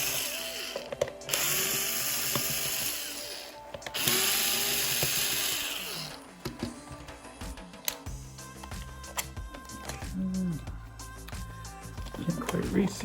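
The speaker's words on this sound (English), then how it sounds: "Taking the screws out." Screws being removed from a moldy VHS tape shell with a power screwdriver, whirring bursts and ratcheting clicks coming in short runs up close, with a person talking.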